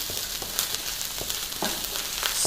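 Garlic, green chilies and the white part of spring onion sauté for chili crab with a constant bright sizzle, broken by a few soft scrapes of a spatula stirring the pan.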